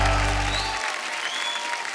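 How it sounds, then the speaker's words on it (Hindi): Loud applause from a stage-show audience welcoming a singer, steady dense clapping filling the whole stretch, with a low musical tone fading out early on. "आप सबकी जोरदार तालियों के बीच"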